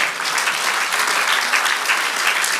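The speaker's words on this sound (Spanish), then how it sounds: "Dale un aplauso al Señor." Congregation applauding in a church, a thick uninterrupted wash of many hands clapping at once, loud and steady for the whole stretch.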